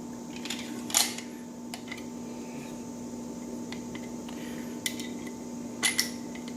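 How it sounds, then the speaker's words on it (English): A few faint metallic clicks ring out as the slide is refitted onto a CZ 75 Tactical Sport pistol, spaced irregularly over a steady background hum. "Go ahead and reinstall the slide."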